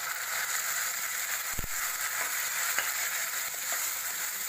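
Tomato puree sizzles in a hot pan over ginger garlic paste while making methi mutter malai. A steady frying hiss runs throughout, broken by a few soft clicks and scrapes as it is stirred.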